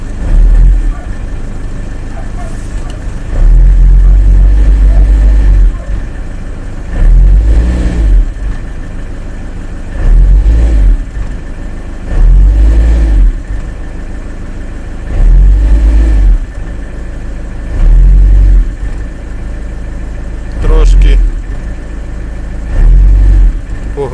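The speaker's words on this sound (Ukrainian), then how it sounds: "газуємо не сильно, бо двигун холодний" A cold Iveco Daily van diesel engine idles and is revved in repeated short, gentle bursts, each rising then dropping back to a low rumble, close by.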